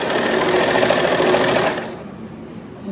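A sewing machine stitching a seam on swimwear runs in a steady, close, loud whir for about two seconds, then stops and leaves a quiet room tone.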